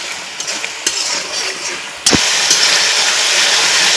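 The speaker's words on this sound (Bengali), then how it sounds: "দিয়ে এখন আমি মশলাটা একটু কষিয়ে নেব।" Spice paste (masala) for a spicy egg curry fries in a pan with a splash of water. A stirring clatter at two seconds sets off a louder, steady sizzling hiss that carries on to the end, with no talking.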